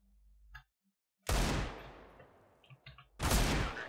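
Two loud gunshots in CS:GO during a one-on-one match, each with a sharp crack and a decaying tail, separated by about two seconds with faint game clicks between.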